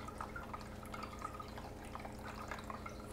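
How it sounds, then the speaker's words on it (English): Hydroponic nutrient solution is poured into a small self-watering planter, making a quiet, continuous trickling and dribbling sound that stays low and even throughout. "And I'm pouring hydroponic nutrients."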